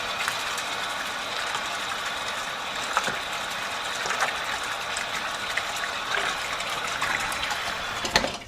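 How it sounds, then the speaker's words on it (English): Water pours steadily over microgreen seeds being rinsed, a continuous close splashing rush with a few small knocks and no talking. "And then I'll rinse the seeds here."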